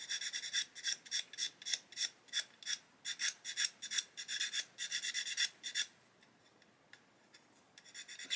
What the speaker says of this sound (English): I'm going to continue to sand that until that step disappears